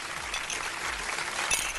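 Applause from a studio audience on a Turkish cooking show, a steady wash of clapping that fills the moment without a break, moderately loud and even.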